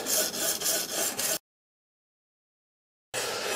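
CBN sharpening stones scraping across a blade on an Ermak 10 sharpener, rhythmic back-and-forth rasping strokes, close and clear, breaking off into silence before resuming.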